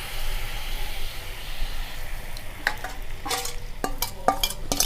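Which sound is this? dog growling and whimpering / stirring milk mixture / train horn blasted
stirring milk mixture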